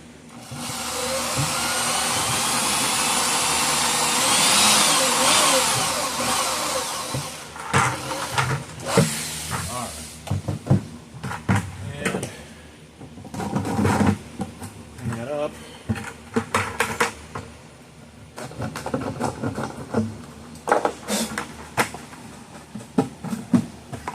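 A step drill bit whines while boring a hole through a plastic bucket, a sustained loud drilling at the start, then intermittent short bursts and clatter as someone talks.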